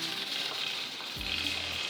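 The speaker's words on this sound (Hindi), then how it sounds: "चलो जी, ज़ीरा भून लेते हैं।" Cumin seeds roasting in a pan, a faint steady hiss of sizzling with a low thud near the end, quiet and close, with no talk.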